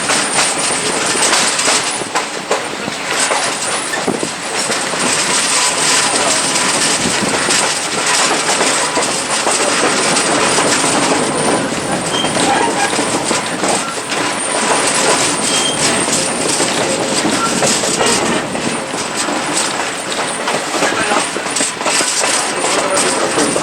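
The 1880 Train, a heritage railway at Hill City, South Dakota, rolls steadily on its rails with a continuous loud rattle and clatter of wheels and cars heard from on board, constant throughout.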